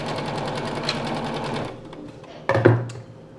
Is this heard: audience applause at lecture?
no